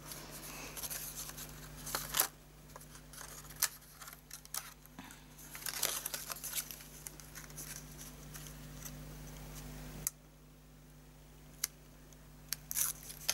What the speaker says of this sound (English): I think I might just have to get some scissors to trim that out